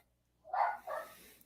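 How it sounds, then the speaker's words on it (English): A dog barks twice in quick succession, a short sharp yip followed by a second bark, fairly close and alone against near silence. "If the dog would stop barking, that'd be great."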